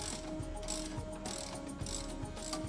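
A ratchet wrench clicks rhythmically in repeated strokes while loosening the sway bar end link to shock mounting bolt on an Audi Q7, faint and close, with a steady mechanical whine underneath.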